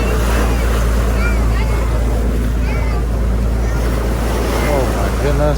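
Sea waves slosh against a small boat off a remote island in Sri Lanka, with steady wind noise, a continuous engine drone and people talking loudly over the rough water throughout.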